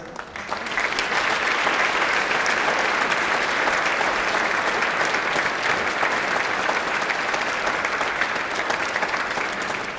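Loud, sustained applause from a concert audience at a wind orchestra's Christmas and New Year concert in 2023, a dense, even clapping that fills the hall from start to finish.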